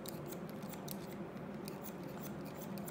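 Barber scissors cut hair during a classic men's haircut, giving a quick run of soft, close snips over a steady low background hiss.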